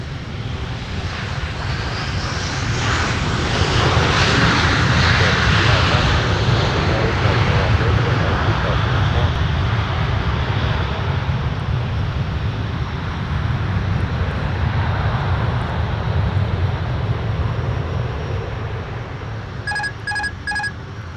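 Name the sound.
airplane taking off at MSP airport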